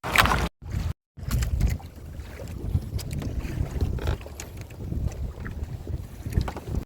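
Strong wind buffeting the microphone on a small boat out at sea among dangerous waves, heavy low rumbling gusts with brief dropouts early on, water and hull noise underneath, no talking.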